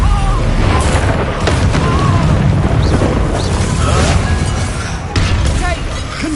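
Fire spell in a wizard video game erupting in loud, sustained booming blasts with crackling bursts and a deep rumble, a sharp new impact near the end, and a voice calling out over it.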